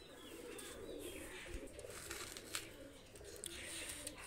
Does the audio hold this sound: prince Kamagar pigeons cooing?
yes